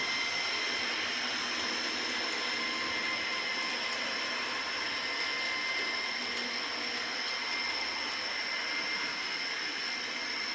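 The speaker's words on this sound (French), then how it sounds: "la locomotive accélère ensuite selon la courbe que je lui ai programmée jusqu'à la vitesse" A model train locomotive runs under digital control as it accelerates along a programmed speed curve, producing a steady, continuous whirring hum with high-pitched motor whine that stays constant throughout, with no talking.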